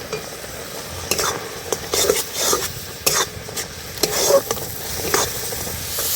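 Chhana mixed with sugar and milk powder is stirred in a pan while cooking, giving repeated scraping strokes over a steady sizzle, close and fairly loud, with no talk.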